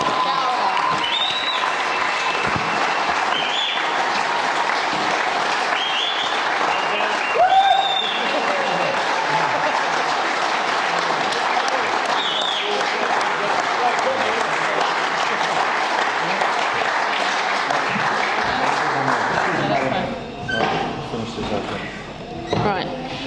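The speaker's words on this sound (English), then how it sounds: "I think we need to have one more round of applause" Sustained audience applause at a shearing world record awards event, a broad roar of many clapping hands with some cheering, loud and steady, thinning toward the end, with a voice speaking over it.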